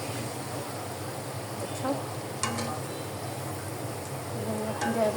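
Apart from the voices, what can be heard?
food frying in a pan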